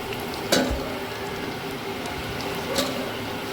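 Goat fat fritters, Bengali style, crackle in hot oil with a continuous even sizzle, and two brief clinks come as pieces are lifted out of the pan; there is no speech.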